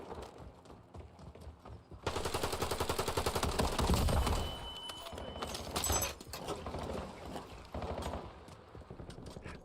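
Rapid automatic gunfire in the Warzone video game crackles in dense bursts, loud and close, continuing with shorter volleys and single shots.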